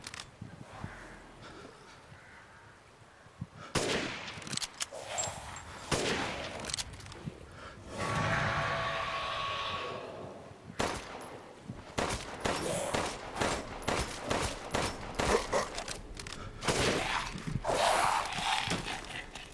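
Rifle gunfire in the video game Resident Evil Village, sharp shots repeating through the clip amid game action and footsteps, with a louder sustained burst in the middle.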